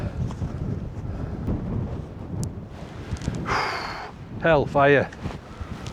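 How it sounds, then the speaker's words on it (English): Strong gusts above 50 mph batter a Fjern Stormgrotta 1.5 tent pitched with six base pegs and six guy lines, a dense rushing roar with the fabric flapping loudly, and someone speaks briefly over the wind. "It is very windy."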